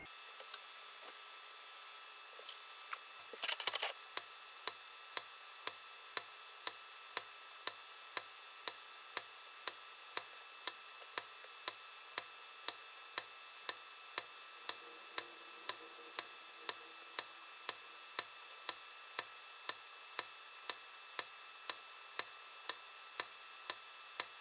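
A DEC VAX 4000/200 minicomputer powers up with a brief loud burst, then settles into a steady fan hum with regular, evenly spaced ticks repeating about twice a second, heard alone.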